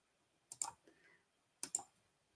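Two quick pairs of computer mouse clicks, crisp and close, separated by a short pause, while colours are being picked in Canva.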